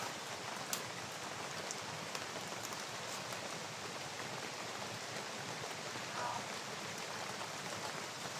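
Steady rain falls outside as a soft, continuous hiss of drops, even and constant throughout, with no voices heard.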